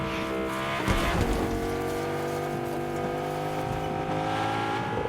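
A sports car engine in the video game Fortnite drones and shifts pitch as it accelerates, with harmonic whine rising and holding steady, loud and continuous throughout.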